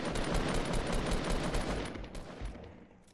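Rapid video game gunfire from a squad shooter, a dense burst of shots that fades over the final second, fairly quiet with no talking.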